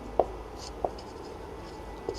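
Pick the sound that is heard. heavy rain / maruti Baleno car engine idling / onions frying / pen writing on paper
pen writing on paper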